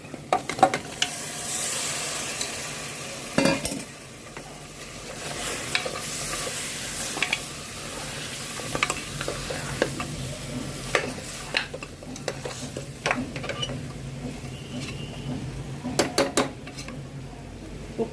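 Goat legs for mutton paya sizzle in hot oil in a pan and are stirred, with irregular metal scrapes and clatters of the utensil over a constant frying hiss, close and moderately loud, with no talk.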